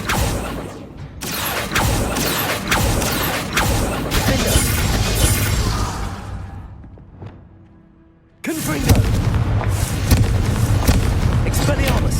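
Confringo spell blasts in Hogwarts Legacy combat crack out as loud, sharp booms and crashes in a busy clatter. A brief near-silent lull follows, then a fresh burst of impacts resumes at full force.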